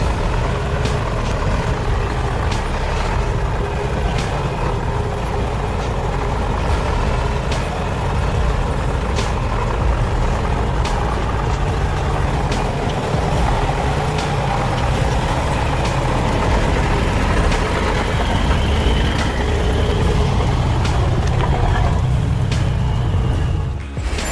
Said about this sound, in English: With each push of the accelerator, the car shook violently, as if it was using all its strength to overcome the obstacle.